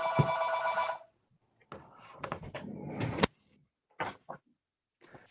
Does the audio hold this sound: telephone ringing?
yes